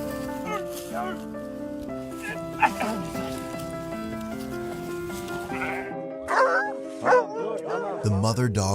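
A mother dog trapped near a railway track whimpers and gives high, pleading yelps and short barks, close and insistent, mixed with background music and people speaking.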